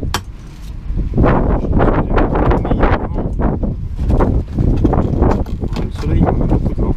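Strong wind buffeting the microphone in continuous rumbling gusts, loud and close, with a voice partly heard beneath it, outdoors on Marie-Galante island.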